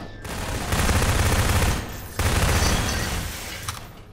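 Sustained, dense bursts of gunfire in Half-Life 2, two long, loud volleys separated by a short break, rattling close and continuously.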